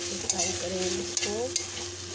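Chowmein noodles sizzle in a pan as a utensil stirs and scrapes, giving a few sharp clicks over a steady frying hiss, heard briefly with no speech.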